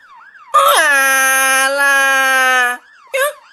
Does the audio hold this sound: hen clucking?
no